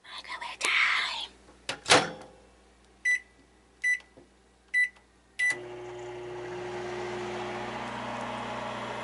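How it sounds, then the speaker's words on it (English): A microwave oven in a home kitchen: rustling and a door thunk, four short keypad beeps, then the oven starts with a steady low electrical hum and fan whir that continues to the end, close and moderately loud. "Can I put it in the microwave?"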